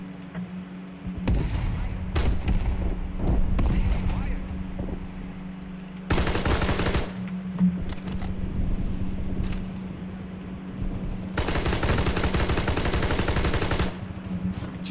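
Bursts of automatic gunfire and explosive blasts from a multiplayer shooter video game come in loud, dense volleys separated by quieter gaps, with a low steady hum running underneath.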